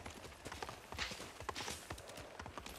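Faint hoofbeats of a horse in the video game Ghost of Tsushima clop along in a steady trotting rhythm, soft and somewhat distant, with no voices.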